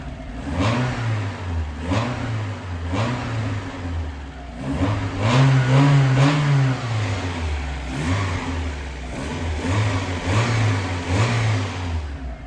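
A Mazda Miata engine, close by, revs repeatedly in rhythmic throttle blips and then a longer, higher rev before settling back into steady revving.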